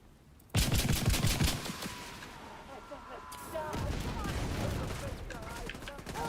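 Bursts of rapid weapon gunfire in the shooter The Division 2, loud and sharp at first, then a sustained rattling volley, with voices partly underneath.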